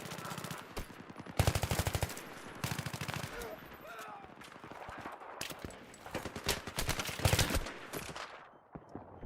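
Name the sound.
shotgun fire in video game Battlefield 3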